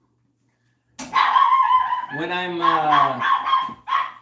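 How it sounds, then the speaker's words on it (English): Dogs barking and yipping indoors close by, a run of sharp barks overlapping someone speaking to a camera during a pool lesson on the 8 ball. "My dogs are freaking out."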